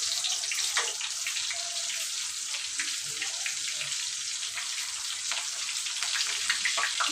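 Onions dropped into hot oil sizzle steadily and fairly loudly in a pan for the whole stretch. The crackling is continuous, with small pops scattered through it and no voices.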